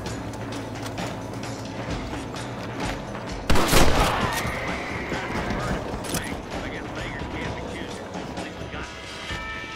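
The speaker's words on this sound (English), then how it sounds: "Not a bad shot, Mr. Marston" Gunshots in the Red Dead Redemption video game, a loud burst of gunfire standing out over a dense, busy game soundscape with continuous background noise and mechanical rumble.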